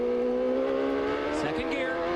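A CART race car on a road course runs off track with its outside wheels over the curbs, its engine holding a steady high whine, then stuttering and bumping as it bounces across, heard under commentary.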